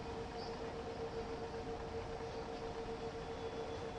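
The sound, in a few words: freight train running in the video game Train Sim World 5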